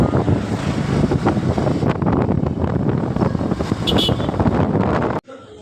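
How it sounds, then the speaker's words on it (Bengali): A motorbike ride outdoors brings heavy, continuous wind buffeting across the microphone, loud and rough, before it cuts off abruptly near the end. "আমরা হচ্ছে বাইরে গেছি আর বাইকে যাইতেছি মানসুরা"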